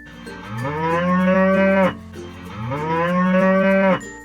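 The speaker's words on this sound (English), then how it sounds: "Their hearty moo calls are used to communicate with their herd, especially when they're hungry or relaxed." A cow gives two long, loud, close moos, each rising and holding in a deep, drawn-out tone before cutting off, with a short gap between them.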